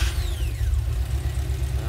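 Humvee with an LS engine and Holley Sniper fuel injection running close by with a steady low rumble and a slight rise in revs, alone without talk.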